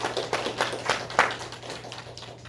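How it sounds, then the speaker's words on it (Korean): A church congregation claps in short, loose bursts, a moderately faint and uneven patter of hands over a low steady hum. "우리 하나님께 영광의 박수를 보내드립니다"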